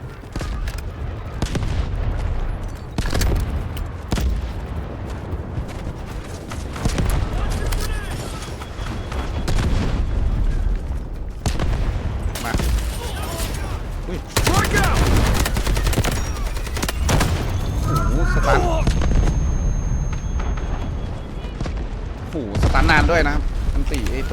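Rapid automatic AKM rifle fire from the Delta Force video game, with repeated bursts and loud shots throughout a firefight. Someone talks over much of the shooting.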